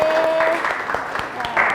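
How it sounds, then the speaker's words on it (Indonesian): Students in a classroom applaud a classmate with a short burst of clapping, fairly close, with a voice speaking over it. "Oke, beri tepuk tangan temannya."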